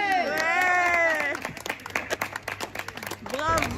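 An audience claps for a street crier's announcement during a town crier performance, a burst of scattered applause of about two seconds set between loud, drawn-out shouted voice passages.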